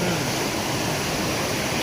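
A waterfall in a stream, a steady broadband rush of falling water heard close and loud throughout, with no voices.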